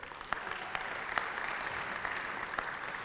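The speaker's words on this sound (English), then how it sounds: "Let's give them a round of applause." A luncheon audience at a Virginia Beach tourism awards event applauds in steady, dense clapping that holds evenly throughout, with a few sharper claps standing out, heard from within the room.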